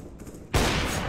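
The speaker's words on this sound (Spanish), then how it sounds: "se falla el disparo" Gunfire bursts out in the video game CS:GO on the old Dust II map, a sudden loud sustained blast of rapid shots cutting in after a quieter moment.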